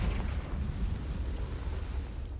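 Confringo blasting spell in the video game Hogwarts Legacy, a deep rumbling explosion with a heavy low boom that rolls on steadily and fades little over its length.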